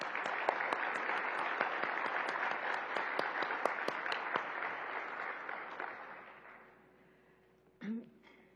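Applause from a summit audience in a hall, with crisp claps standing out from the steady clapping, which fades out over the last couple of seconds before a short voice.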